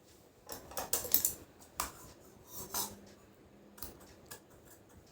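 Scissors cut through blouse fabric in a series of sharp, quiet snips and clicks, spaced irregularly with brief pauses between cuts, close and otherwise near-silent.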